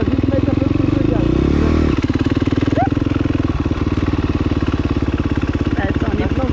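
A motorcycle engine revs under added throttle during a wheelie lesson, loud and close, a rapid pulsing drone that steps up then settles into a steady throb while people talk over it.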